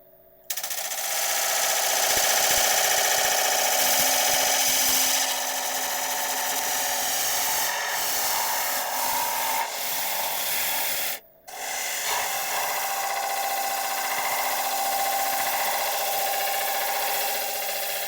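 A woodturning lathe thins a wooden piece with a steady, loud, rasping hiss of the tool cutting the spinning wood. It pauses briefly partway through before the continuous scraping resumes.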